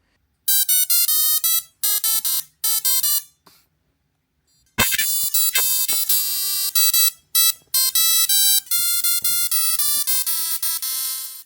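A Tesla coil driven by an ESP32 plays music as a buzzy, electric square-wave melody with sharp on-off notes and short pauses, loud and bright with no talking.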